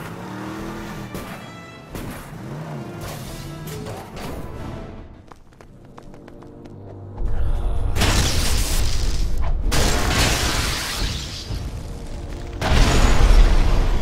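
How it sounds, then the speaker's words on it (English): Booming explosions and crashes burst out in the Lego Marvel Avengers video game, loud heavy blasts with rumbling low end following a stretch of game music and effects, with repeated bangs near the end. "Got a lot of exploding in this game."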